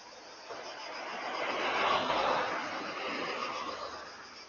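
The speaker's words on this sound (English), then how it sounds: "It's the cicadas in the trees chirping away." A dense, shimmering buzz of cicadas in the trees in Argassi, Zakynthos, Greece fills the air, swelling and easing slightly, steady and continuous with no talk.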